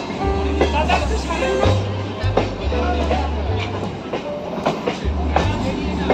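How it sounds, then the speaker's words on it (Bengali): A Kolkata circular railway train rolling past the riverside ghat at Bagbazar, loud rhythmic clickety-clack of wheels over rail joints with a low rumble, while someone talks over it. "এইমাত্র একটা ট্রেন চলে গেল, রেল লাইন পড়ে থাকে পরের ট্রেনের অপেক্ষায়।"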